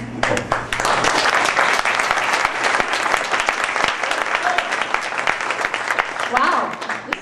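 A crowd applauds steadily at a Pecha Kucha presentation night, dense clapping filling the room for several seconds, with a few voices faintly audible underneath.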